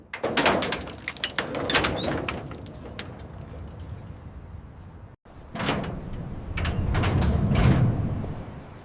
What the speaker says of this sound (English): The doors are opened with controlled force.